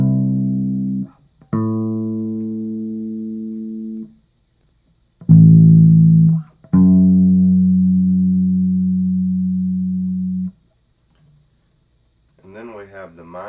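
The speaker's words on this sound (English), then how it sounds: "Next we have the major sixth, which is 9 half steps away from the original note." A bass guitar plays a major sixth interval: two low, sustained plucked notes sound one after the other, then the pair is repeated, each ringing clearly alone before a voice begins at the end.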